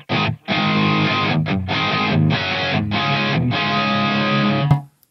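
Distorted electric guitar through a Line 6 Helix with a 20-millisecond dual cab delay plays chunky chords in short bursts with brief gaps, a slight slapback doubling thickening the tone, ending in an abrupt stop.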